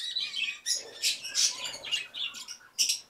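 Neophema parakeets give soft, high chirps and twitters at close range in a Bursa parrot breeding facility, a steady string of light calls with no voices.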